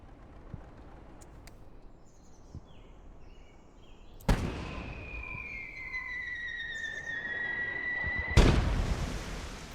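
Two heavy mortar explosions boom in the video game Finest Hour during the Battle of Arras, each striking suddenly against a quiet battlefield ambience. Whistling tones ring between the blasts, and the second impact lands a few seconds after the first.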